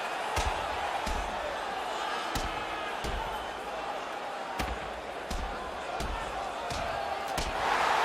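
An NHL 16 video game hockey arena crowd murmurs and roars in a steady wash after a fight, with about a dozen sharp thuds or slams punctuating it at roughly regular intervals.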